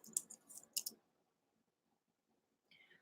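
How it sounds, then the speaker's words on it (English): Typing into an online chat during a live support meeting: a few quick bursts of keyboard clicks near the mic, then a long quiet pause and a faint final clatter. "I'm typing it in your chat."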